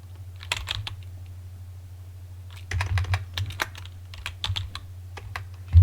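Keystrokes on a computer keyboard while editing a config file in the vim editor on EndeavourOS Linux: close, crisp clicks in irregular bursts separated by short pauses, over a low steady hum.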